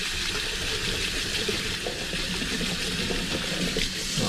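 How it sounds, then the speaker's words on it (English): Tap water runs steadily over soaked beans being rinsed in a kitchen, a continuous close splashing wash with no pauses. "I'm just going to give them a little rinse."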